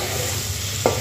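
Mandeli fish coated in masala is stirred gently in a pot over a low gas flame: a soft, continuous simmering hiss with one brief scrape of the spoon near the end.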